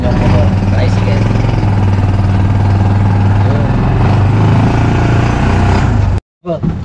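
A motor tricycle engine running with a loud, steady rattling clatter and low drone up close, nearly unbroken for about six seconds before cutting out abruptly, with faint talk underneath.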